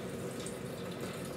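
Spring water pours steadily into a drink made with mint and lemon, a soft close trickling stream with no talking over it.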